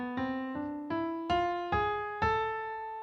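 A harmonic minor scale played as six clear, evenly spaced notes rising in pitch, each struck note ringing and decaying, faint and alone.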